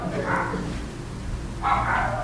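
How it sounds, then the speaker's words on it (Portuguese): A freshly woken dog gives two barks about a second and a half apart, moderately loud over a steady low background rumble, with no speech. "O cachorro acordou."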